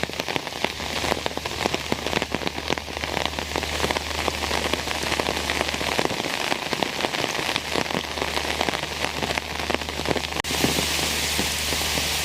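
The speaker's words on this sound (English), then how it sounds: "right now it's raining everywhere" Steady rain falls in the Maldives, a dense, even hiss of drops hitting wet surfaces that continues unbroken and close around, with no voices.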